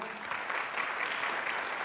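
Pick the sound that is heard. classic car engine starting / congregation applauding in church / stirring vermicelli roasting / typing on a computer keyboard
congregation applauding in church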